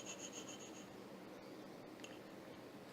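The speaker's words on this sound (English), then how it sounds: "when you're sanding on the block, try to keep it flat" A bone guitar nut for a Telecaster-style guitar is rubbed back and forth on a flat sanding block, giving a steady, close, low-level rasping scrape with a few faint clicks and no talk.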